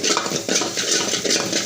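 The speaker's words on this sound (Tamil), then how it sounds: "வடசட்டியில் முட்டையை உடச்சி ஊற்றி கொஞ்சம் கிளறி எடுத்துக்கலாம்." Egg cracked into a wok with spiced pasta is stirred in steady strokes, the spatula scraping and clattering against the metal pan close up, loud and continuous with no voices.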